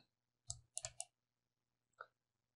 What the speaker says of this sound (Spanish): damos doble clic aquí en medio,